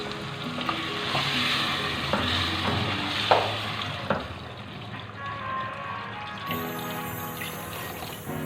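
Beef mince and potatoes fry in a pan as water is poured in and stirred, a steady sizzle punctuated by clinks and scrapes, quieter toward the end.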